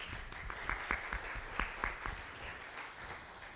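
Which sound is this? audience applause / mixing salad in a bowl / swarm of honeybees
audience applause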